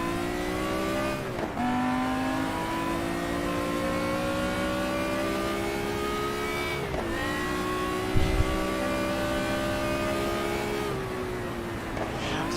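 A race car engine in the racing sim GT Legends drones at high revs, climbing through the gears with brief dips at each shift. It is loud and continuous, with no talking.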